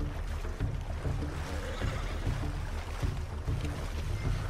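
A horse swimming through water in Red Dead Redemption 2, with continuous sloshing and splashing over a low rumble of moving water, steady and moderately close with no talk.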